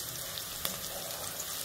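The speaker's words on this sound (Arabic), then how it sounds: "أنا هنا حمرت البصل وأضيف عليه قصدي جداد مفروم" Minced chicken frying in a pan over sautéed onions, a steady soft sizzle with faint crackles throughout, close and alone with no talk.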